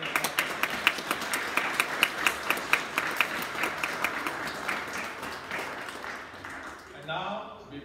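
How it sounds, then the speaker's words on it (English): A congregation at a First Holy Communion church service claps in a steady, rhythmic round of applause that gradually fades, and a voice follows at the very end. "So please give a big round of applause."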